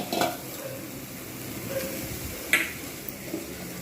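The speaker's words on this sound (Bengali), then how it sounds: "লবণটা দিয়ে আবার ফের আমি ভালোভাবে কষে নেব" Fish curry masala for doi pona, a yogurt-based rohu dish, is sautéed with salt in a pan: steady scraping and stirring over a soft sizzle, with a sharp utensil clink near the middle.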